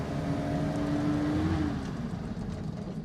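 A 1940s Canadian Morris Minor Lowlight rolls over speed bumps, its small engine droning low and steady with a slight pitch rise before easing off, heard from inside the car without talk.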